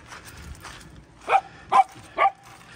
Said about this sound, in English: we're gonna take Kiki for a puppy walk